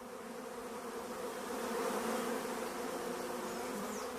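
A swarm of honeybees hums in a steady, dense drone, loud and continuous, with the buzz swelling slightly midway and no voices present.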